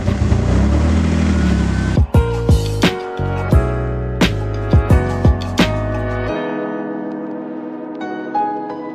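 A BMW E46 car backing up, its engine a steady low hum that ends around six seconds in, with a series of sharp clicks and knocks at regular intervals and a faint tone near the end.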